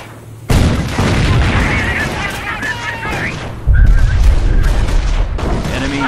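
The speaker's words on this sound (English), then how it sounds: "Massive artillery" Massive artillery barrage in the World War II strategy game Company of Heroes: dense, continuous booming shell impacts and rumbling blasts, with a heavier wave of explosions late in the barrage, all loud and close.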